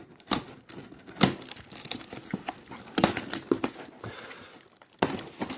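A plastic packaging bag holding electronic circuit boards bought at auction is handled and crinkled close by, in irregular bursts of rustling and crackling that fade and return, with no talk.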